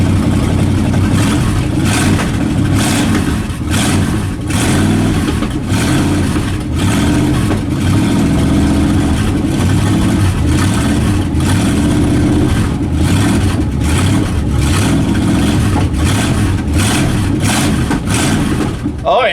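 A 1967 Dodge Dart engine struggling to idle, running loud and rough with repeated revs and throttle blips throughout, close up, with someone talking over it.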